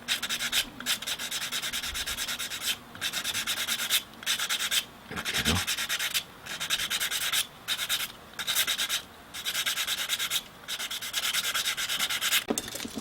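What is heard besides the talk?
sanding plastic float body with sandpaper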